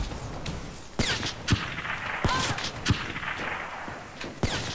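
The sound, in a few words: gunshots in a video game shooter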